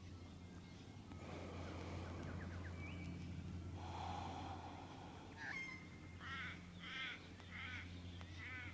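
Birds call outdoors: scattered squawks at first, then a run of repeated chirping calls near the end, over a low steady hum.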